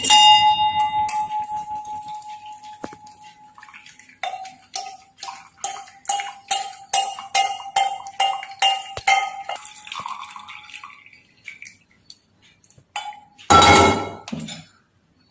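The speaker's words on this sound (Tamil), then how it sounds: "இப்போ இதை வந்து நம்ம வடிகட்ட போறோம்." A boiled weight-loss drink is strained into a tumbler with a steady series of bright metallic clinks and ringing taps, mostly near and rhythmic, ending in a short burst of splashing pouring.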